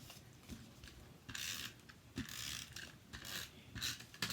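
A snail adhesive tape runner rolling out tape while making a drapery fold card, a series of soft ratcheting mechanical clicks and short rolling bursts, close and quiet, with no talking.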